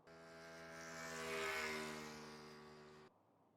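A motorcycle engine runs loud and steady with a strong droning hum, swelling toward the middle and then cutting off abruptly near the end.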